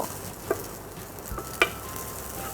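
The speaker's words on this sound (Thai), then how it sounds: "ผัดข้าวเสร็จแล้วเดี๋ยวไปจัดจานกันค่ะ" Rice stir-fries in a pan for a lemongrass fried rice, giving a steady close sizzle with two brief scraping clinks of the utensil against the pan, and no voices.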